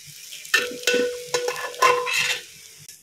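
Cooked rice is stirred into amla pulihora in a pan, with repeated scraping and tossing strokes over a light sizzle, close and alone.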